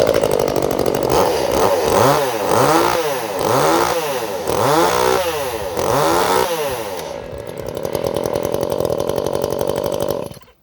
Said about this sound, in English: So I've taken that stock saw with the new chain, and this has a muffler mod on it.